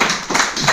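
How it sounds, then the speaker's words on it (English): An audience applauds a classroom presentation at an English-speaking activity: a brief burst of quick, close hand claps lasting under a second. "Clapping for them."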